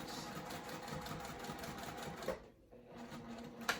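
Sewing machine back stitching on a zippered crossbody bag, a quick stuttering mechanical whir that pauses briefly, then resumes with a sharp click near the end.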